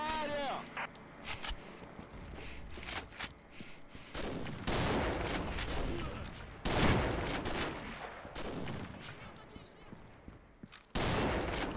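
Bursts of gunfire in the game Combat Arms, capture the flag mode, crackle in repeated volleys, some rapid and automatic, with a voice speaking faintly underneath at times.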